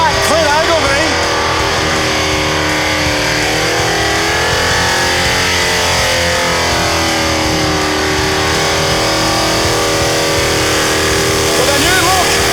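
A burnout car's engine revs hard and holds a high, steady roar at the Summernats Burnout Masters, loud and continuous throughout, with pitch rising and falling and a commentator's voice carried over the noise.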